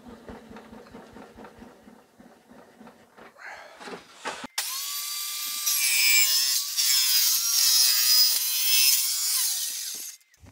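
A table saw spins up with a rising whine, then a long loud cutting roar through wood for several seconds before winding down; some scraping clatter precedes it.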